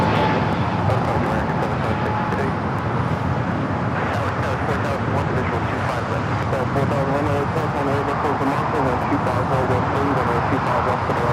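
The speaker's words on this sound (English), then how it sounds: "runway 25 American Airlines 776 taking off to Philadelphia on the A321neo" An American Airlines Airbus A321neo takes off from runway 25 at LAX, a broad, loud, steady jet roar filling the scene while someone talks over it.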